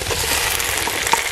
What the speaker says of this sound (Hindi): और अभी टमाटरों को भी नरम होने तक फ्राई कर लेंगे।